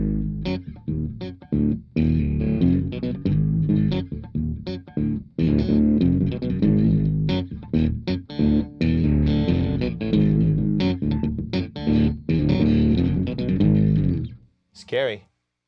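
Electric guitar riff played through amplifiers with heavy distortion, loud and continuous with choppy rhythmic stops, ending abruptly in silence before a short high squeal.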